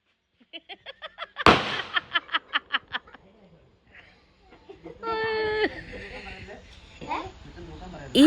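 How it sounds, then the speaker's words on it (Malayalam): Firecrackers bursting at an Onam celebration in Kerala: a loud sharp blast followed by a rapid run of about eight crackling pops, then quieter mixed sounds with a rooster-like crow and background noise. "അപ്പോൾ ഇനി പടക്കം പൊട്ടിക്കാൻ പോവാണ് കേട്ടോ."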